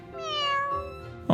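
A cat in the video game Fire Emblem: Three Houses gives a single drawn-out meow that rises and then falls, followed by a short soft thump at the end.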